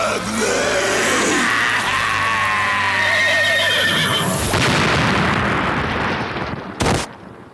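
A horse whinnies loudly amid a dense, chaotic battle scene with roaring noise and a sharp burst near the end, as in a Game of Thrones battle sequence.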